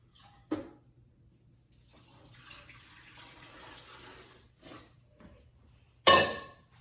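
Water is poured into a blender holding cilantro, onion, garlic, tomatillos and habaneros for picaditas salsa. A soft, faint splashing pour runs through the middle, framed by a few sharp clunks of the container near and loud.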